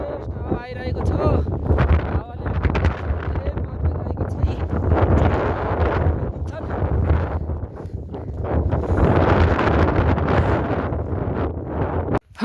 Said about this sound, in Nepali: फ्रेस हावा आइरहेको छ हावाले धेरै मद्दत गरिरहेको छ